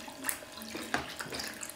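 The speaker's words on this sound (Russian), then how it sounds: "И теперь сюда доливаю воду." Water poured from a tap or jug into a baking dish of zucchini and minced meat, a soft splashing trickle lasting under two seconds with a couple of sharper drops, fairly quiet and close.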